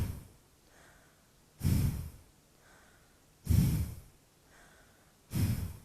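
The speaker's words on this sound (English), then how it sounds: "Just like you're blowing out of the nose on the exhale." Three forceful exhalations through the nose during a breathing exercise, evenly spaced and close, each a short breathy rush followed by quieter inhaling in between.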